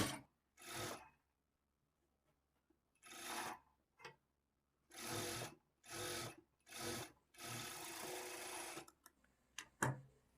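A sewing machine stitches a folded shape belt onto a blouse in several separate bursts of close, loud whirring, each a second or so long, with short pauses between them.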